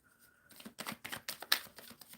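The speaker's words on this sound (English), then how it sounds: "Shuffling for Michelle B44." Tarot cards being shuffled: quiet, uneven riffling and flicking bursts close by, after a brief near-silent start.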